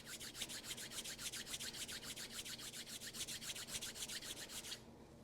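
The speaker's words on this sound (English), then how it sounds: "Start rubbing your hands a little bit more and creating heat." Palms rub briskly together to build warmth, a close, steady run of rapid rasping back-and-forth strokes that stops just before the end, with no voices.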